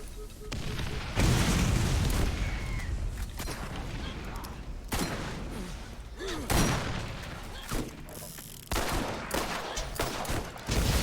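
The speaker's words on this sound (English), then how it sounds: "Throwing grenades." Grenades explode amid gunfire in the Borderlands game on Zombie Island of Dr. Ned, repeated heavy booms and rattling shots in several loud waves, with voices talking over the fight.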